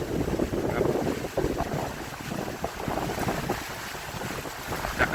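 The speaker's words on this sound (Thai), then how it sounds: "โอ้ทั้งลมทั้งฝนนะครับพี่น้องครับ" Strong stormy wind in Taiwan buffets the microphone in steady, roaring gusts, with a constant hiss that may include rain, loud and continuous with no voices.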